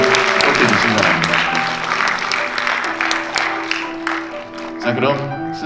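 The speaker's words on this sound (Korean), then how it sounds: "네, 다시 한번 박수로 호응해 주시기 바랍니다." Wedding guests at a Seoul wedding hall applaud steadily throughout, a loud, sustained round of clapping with a brief swell near the end, while the host's amplified voice and background music carry on underneath.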